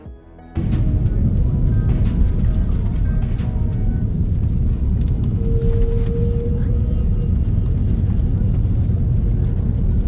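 SAS airliner landing at Copenhagen, heard from inside the cabin as a sudden loud, steady low roar of engines and rolling, with a brief tonal whine partway through.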